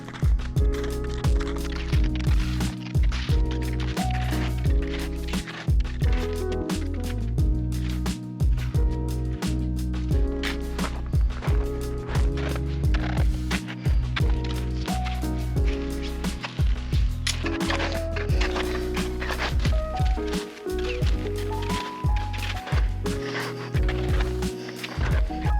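Skis clattering and chattering over rough, sun-cupped snow on Mount Whitney's Mountaineer's Route, a continuous jolting series of knocks and scrapes, close and loud throughout.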